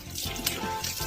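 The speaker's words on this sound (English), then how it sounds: "Rinse it thoroughly with water." Tap water runs and splashes as hands are rinsed during a clinical handwashing routine, a steady close trickle with small splashy bursts, no talking.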